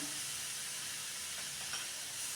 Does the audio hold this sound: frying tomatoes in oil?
yes